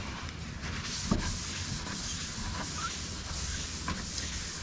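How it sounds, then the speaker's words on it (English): Hand sanding with the grain across a freshly varnished wooden boat table, a steady soft rubbing hiss with a few brief scraping strokes, close and continuous with no talk. "I'm going to have to go over this quickly and hand sand it"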